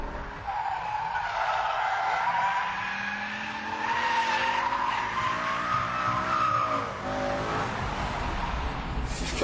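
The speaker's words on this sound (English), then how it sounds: "now lift up the throttle as we dive into the corner" A sports car, a BMW M5, corners hard on a race track with tires squealing and skidding, a loud continuous screech over the engine that shifts in pitch as it slides through the bend.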